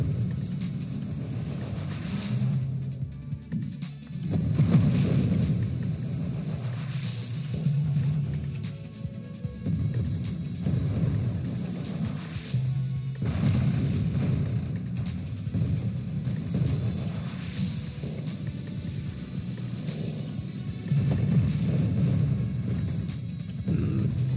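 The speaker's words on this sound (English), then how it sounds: "Oh yeah, our explosions are pretty big now." Big explosions in the space shooter Nova Drift, heard as heavy, booming low rumbles that swell and roll on almost without pause through the whole stretch, loud and close, with no talking over them.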